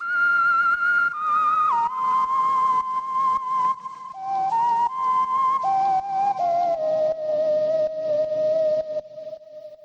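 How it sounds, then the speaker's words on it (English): A whistle one-shot sample from the Cymatics Hearts pack plays a clear, sustained tonal melody in a lo-fi remix, with pitch steps and slides, heard alone with soft percussive ticks beneath and no speech. "It's like a whistle."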